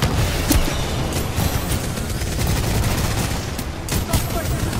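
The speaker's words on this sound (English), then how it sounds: "Why are you shooting it?" Rapid gunfire from a Titanfall 2 firefight, dense bursts of shots crackling continuously throughout with a few heavier reports standing out, loud and close.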